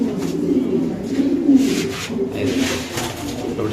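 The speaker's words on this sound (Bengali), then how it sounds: "দেখেন শৌখিন নটা যেভাবে ডাকতেছে" Fancy pigeons coo steadily nearby, a low, throaty, rolling murmur repeating in overlapping waves for the whole stretch.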